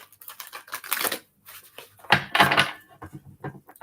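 Tarot cards being shuffled by hand, a few irregular bursts of riffling and slapping card noise, close and distinct, with short pauses between shuffles.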